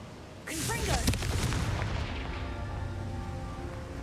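A Confringo fire spell in Hogwarts Legacy bursts into a loud, close blast with a crackling boom that rolls into a long, fading rumble; a voice casts it just before the explosion.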